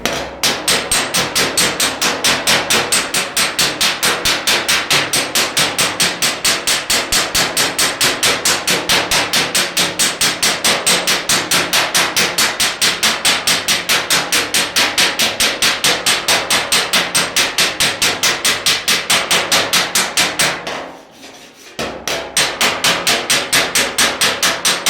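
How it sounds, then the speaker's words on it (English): Rapid, steady hammer blows strike a red-hot weld bead laid on a metal dolly during hammer welding, ringing loud and close in a continuous fast rhythm with one brief pause near the end. "You can see I was hitting it pretty hard to get that weld smushed flat. And I'm also hammering directly on the dolly."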